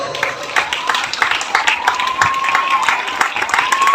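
Audience applause at a school Maulid Nabi religious event for madrasah students, steady scattered clapping filling the whole stretch with a speaker's voice faintly under it.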